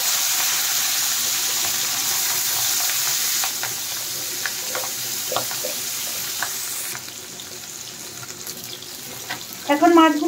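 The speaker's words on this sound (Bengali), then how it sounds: "তেল গরম হয়ে গেছে, এখন মাছগুলো দিয়ে দেব" Tengra fish frying in hot mustard oil in a pan makes a loud, dense sizzle that eases after a few seconds into a quieter hiss with scattered pops and clinks, ending in a brief louder burst.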